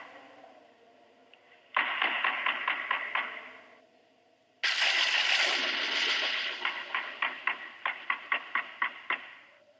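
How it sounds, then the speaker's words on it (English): A knocking-on-a-door sound effect plays as two bursts of rapid, sharp wooden raps, each a run of about eight knocks, clear and close over a quiet background. "let's play the knocking on the door cue"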